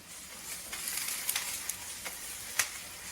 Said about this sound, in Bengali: We will saute until the onions are translucent.